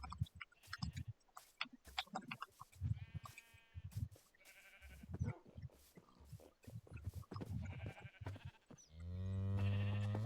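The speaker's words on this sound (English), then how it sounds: "Why do I keep getting pink sheep?" Pink sheep in Minecraft bleating several times between clicks and other game sounds, with a long loud bleat near the end.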